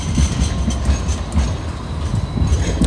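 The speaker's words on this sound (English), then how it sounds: "There's a little tram going past." A small tram rolls past at Circular Quay with a loud, close, continuous rumble of wheels on rails and faint clattering, filling the whole moment with no speech over it.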